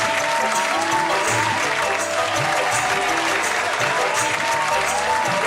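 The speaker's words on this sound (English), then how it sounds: "So please give him a huge round of applause." An audience claps loudly and steadily at a school event for grade one learners, a continuous dense round of applause with crowd noise and no gaps.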